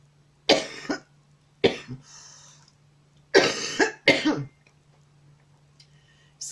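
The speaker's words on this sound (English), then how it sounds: "I seem to be having a coughing fit" A woman coughs in a fit: four separate bursts of harsh, close coughing and throat clearing spaced over several seconds, with quiet pauses between them.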